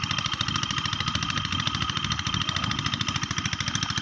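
A deep well irrigation water pump runs at an irrigated field in Magalang, Pampanga, with a loud, steady engine chugging in a fast, even rhythm and constant splashing water noise throughout.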